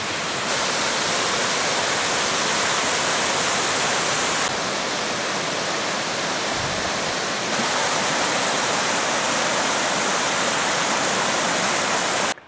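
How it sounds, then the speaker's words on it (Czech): Small mountain brook running down the slope of Březník, a steady, loud broadband rush of water close by with no pauses throughout. "z jeho svahu stéká potůček, u kterého právě stojíme"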